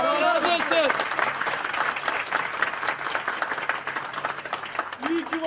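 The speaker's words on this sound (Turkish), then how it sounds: "Cumhurbaşkanı Erdoğan'ın konuşması uzun süre ayakta alkışlandı" A crowd at a veterans' dinner gives a long standing ovation for a speech by Turkish President Erdoğan, with loud, dense, continuous applause throughout and a few voices calling out within it.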